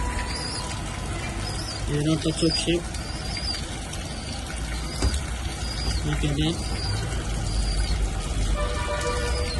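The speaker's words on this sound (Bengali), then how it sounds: "তরুণ কবুতরগুলো দেখিয়ে দিই" Young pedigreed racing pigeons coo in short bursts at moderate distance, heard over a steady low background.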